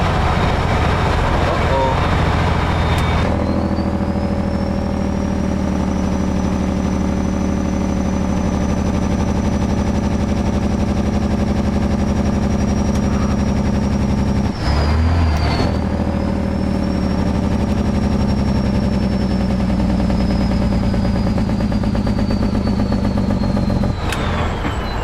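A truck engine drones steadily from inside the cab while shifting through gears on a road in Atlanta, with a rising whine that dips and recovers at each gear change under constant road noise.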